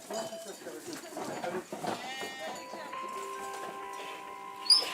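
Sheep bleat several times under a voice talking over light farmyard background, the animals' wavering cries fairly close and mixed with a few clear tones near the end.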